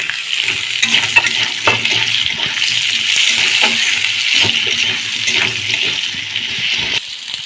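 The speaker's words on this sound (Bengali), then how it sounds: "হলদি মরিচের গুঁড়ো এখানে দেওয়া হচ্ছে। তো ফ্রাইয়ের জন্য আলুটা দিয়ে দিচ্ছে" Potato pieces fry in oil with turmeric and chili powder for a Bengali fish curry, producing a loud, continuous close sizzle with occasional stirring clatter and no talking.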